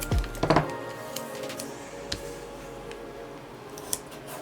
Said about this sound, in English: So I'll just tape that edge down